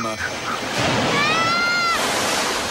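Large ocean waves surge and wash in a steady, broad roar that swells partway through, with a thin whistling tone gliding above the surf for a moment.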